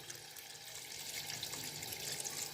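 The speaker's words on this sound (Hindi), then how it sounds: "हाफ लीटर हमने इसमें पानी शामिल कर देना है।" Half a litre of water pours into a pot of spiced potatoes being cooked for kebabs, a soft, steady splashing stream that runs evenly throughout with no voices.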